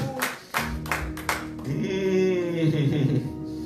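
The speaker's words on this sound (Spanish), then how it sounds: "Dale aplauso al Espíritu Santo." A few sharp claps ring out at a Spanish-language church service, then a sustained tone with voices follows; the clapping is brief and fairly close.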